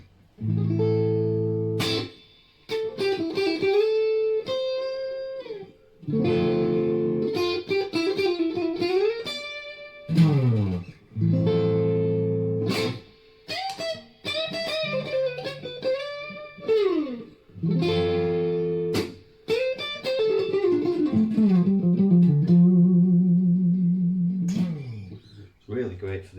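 Harley Benton HB-35 guitar played on its split-coil pickup with a clean, bluesy tone: phrased licks with sustained notes, bends and slides, close and prominent with a touch of reverb.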